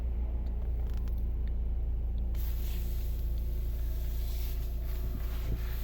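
A 2016 Volvo V60 with a 2.0 diesel engine and automatic gearbox starts up and settles into a steady, low idle rumble, with a sharp shift in the sound a couple of seconds in.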